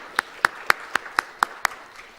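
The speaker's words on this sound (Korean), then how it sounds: "우리 다시 한번 김다술 청년 박수로 축복합니다." Slow, evenly spaced handclaps at a church service, about eight sharp claps in a steady rhythm, fairly close and distinct with no talking.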